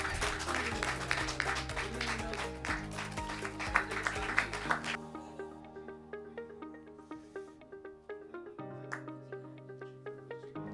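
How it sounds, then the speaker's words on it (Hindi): Audience applause at a Hindi poetry and humour gathering (kavi chaupal), broad clapping in the first five seconds, then thinning into sparse scattered claps over a tonal background. "जोरदार तालियों के साथ"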